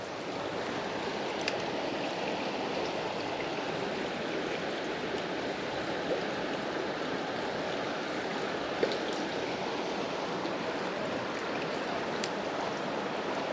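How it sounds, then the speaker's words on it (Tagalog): Strong river current rushing past a bass fishing spot, a steady broadband roar of flowing water with occasional splashes, constant and close, with no voices. "Malakas ang agos dito kaya siguro hindi pipirme yung isda."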